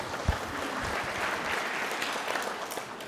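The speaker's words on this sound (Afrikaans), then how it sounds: "Geef vir Hobie 'n lekker hande klap." Audience applause fills the room at a steady level after a short talk, a dense continuous wash of clapping hands with no voices over it.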